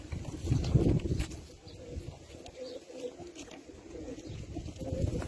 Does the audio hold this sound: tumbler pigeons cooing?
yes